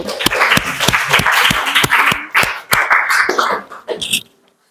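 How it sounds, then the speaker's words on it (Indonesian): A classroom of teachers claps for the first group's presentation, a short burst of distinct, sharp hand claps with chatter mixed in, lasting about four seconds before stopping abruptly into silence. "Beri tepuk tangan untuk kelompok 1."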